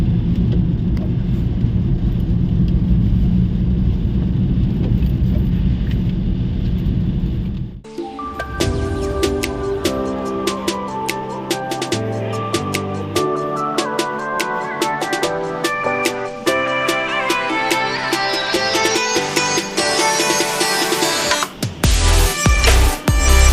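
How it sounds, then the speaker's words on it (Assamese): Rain falling outside on a rainy day in Tezpur, a steady, dense wash of noise for about eight seconds before music takes over. "তো বাহিৰত পৰা বৰষুণ ষ্টাৰ্ট।"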